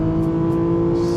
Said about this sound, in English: This is the beauty of naturally aspirated, free revving engine.